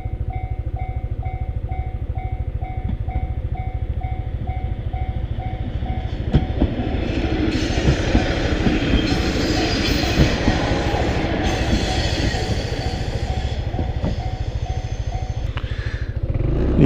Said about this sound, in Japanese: ここで電車見ることあんまり少ないのにね